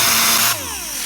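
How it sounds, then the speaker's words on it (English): A DA sander running with 80 grit sandpaper on automotive body filler during body work, giving a loud, harsh whirring grind whose pitch drops as the tool slows partway through. "what we're using now is 80 grit on the DA sander"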